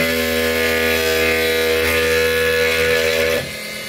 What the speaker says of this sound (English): I just turn on the lathe